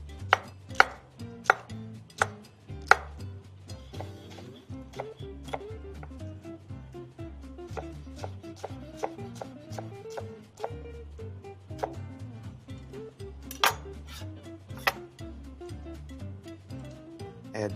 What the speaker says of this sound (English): Just work your knife alongside the exterior of the pepper to remove the ribs, and the core will come out with it.